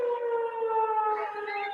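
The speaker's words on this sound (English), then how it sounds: "And the sirens agree." A wailing siren sounds outdoors, its steady tone holding for a couple of seconds and then bending as a second rising pitch joins it. The sound is moderately loud and continuous, and no one speaks over it.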